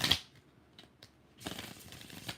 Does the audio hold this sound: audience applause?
no